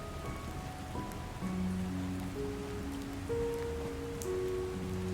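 Rain falls at night in a soft, steady hiss, moderately faint, with gentle sustained musical tones layered over it and no talking.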